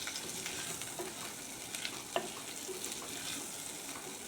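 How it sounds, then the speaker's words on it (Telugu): Dry fish frying in a clay pot makes a faint, soft sizzle, broken by gentle stirring scrapes and one small clink, with no voices. "ఇప్పుడు వీటిలో నెత్తలు వేసేసి ఒక 5 నిమిషాలండి వేపుకుందాం."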